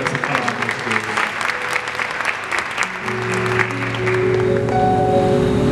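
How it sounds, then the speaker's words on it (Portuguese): A church congregation bursts into applause during a worship service, dense clapping filling the room steadily for several seconds, with a sustained musical tone rising beneath it toward the end. "dê uma salva de palmas nessa palavra"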